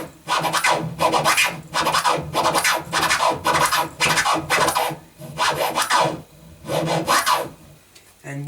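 A DJ scratches a record on a turntable in a baby-and-flare pattern, making loud, rhythmic back-and-forth bursts in quick groups with brief pauses between them, close up.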